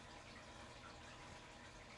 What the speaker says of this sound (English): That's the fish tank.